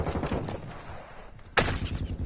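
Gunfire in a Call of Duty Modern Warfare 2 multiplayer match: a dense rattle of shots, then one sudden loud blast followed by continued firing, all without speech.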